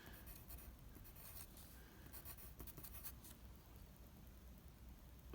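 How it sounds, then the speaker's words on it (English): Math is written out by hand in an order-of-operations lesson, with soft scratchy pen strokes in short irregular bursts, faint and close, with no voices. "I'll write it again"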